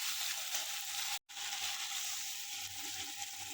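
Mustard paste frying in a pan with fish, tomato and slit green chillies, giving a steady bright sizzle with a brief break near the middle, close and without talk.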